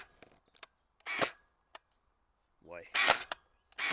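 X-Shot Hyper Gel Trace Fire gel blaster firing, a few sharp snapping shots with mechanical clicks in between, close and crisp in a quiet room, with a brief spoken word.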